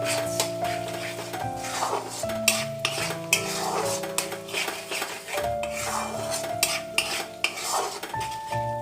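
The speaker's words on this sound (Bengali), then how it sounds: "এবার এইটাকে আবার আমি ভালো করে মিক্স করে দিচ্ছি।" Raw jackfruit being stirred with Kashmiri chilli in a pan for a Bengali kalia, with repeated spatula scrapes and knocks against the metal over a faint sizzle. Background music plays throughout.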